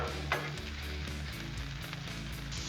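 Burgers and onion sizzle steadily on a Blackstone griddle, a constant bright hiss of frying with a low background hum and no talking.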